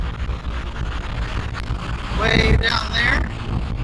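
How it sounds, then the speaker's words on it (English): Strong wind buffeting the microphone on Mustang Island beach, Texas, a steady low roar with gusts that swell louder midway, while someone talks over it throughout. "it is just incredibly windy. You might be able to tell from the sound."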